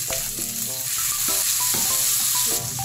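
Tomatoes go into hot oil with garlic and onion for a wild ampalaya dish, giving a steady, close sizzle broken by a few soft stirring clatters, with no talking.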